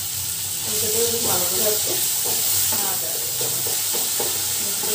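Small fish frying in a pan with oil, a steady sizzle and hiss running under someone speaking.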